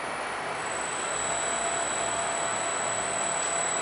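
A CNC spindle runs at 5000 RPM on a PI7600 inverter, making a constant broadband whir with a thin, high, steady whine throughout. No one speaks.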